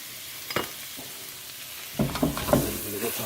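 Garlic and butter sizzle in a pot for a seafood chowder, a steady frying hiss with a few sharper spits and crackles rising louder in the second half.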